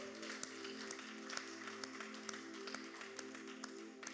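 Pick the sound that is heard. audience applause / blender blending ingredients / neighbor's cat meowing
audience applause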